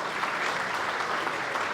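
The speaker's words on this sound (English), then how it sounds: "So can we please have a round of applause for the gentleman?" Brief burst of dense, even applause from guests at an annual gala dinner, many hands clapping together close and loud for a couple of seconds.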